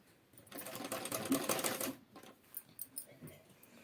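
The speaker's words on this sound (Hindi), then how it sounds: "उसी तरह से हम इसकी गोल में सिलाई भी लगाएंगे।" Sewing machine stitching a curved seam on a blouse belt, a close, fast rattling whir lasting about a second and a half, followed by a few short bursts as the fabric is repositioned.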